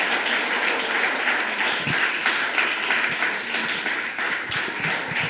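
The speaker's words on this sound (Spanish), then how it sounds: "¿Cuántos le dan un fuerte aplauso a Dios?" A crowd at a men's congress church gathering gives a loud, sustained round of applause to God, dense clapping filling the space evenly with a few sharper claps standing out.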